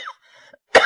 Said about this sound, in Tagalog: naubo tuloy ako